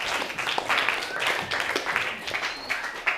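Scattered classroom applause for a classmate, a few students clapping irregularly at moderate volume for about three seconds with faint background chatter.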